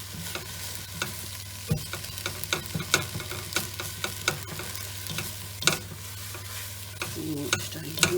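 Pasta with tomato and melting mozzarella is stirred and broken up in a hot pan, giving a run of close scraping, clacking spoon strokes over a low steady sizzle, with no voices.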